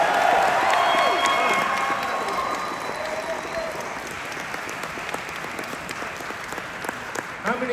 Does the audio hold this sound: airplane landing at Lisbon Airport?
no